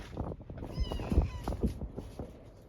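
Cats meow several times close by in a barn or shop, short overlapping calls over scuffling and soft thumps, with a faint voice in the background.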